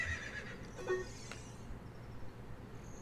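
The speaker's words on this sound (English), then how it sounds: "Hey, newcomer, you have a fine horse." A horse whinnies once in a video game, a brief mid-level neigh over a constant low ambient night-time background of insects and hum, with no speech.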